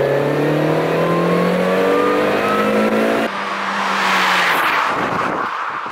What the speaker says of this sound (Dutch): Dan ga ik lekker in je cabrio rijden. Ja. Ik ga lekker hard toeren.